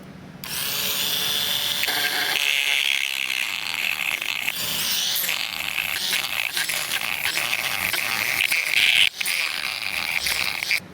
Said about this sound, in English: I'll be using this cutting wheel and just cutting about 5 slits along there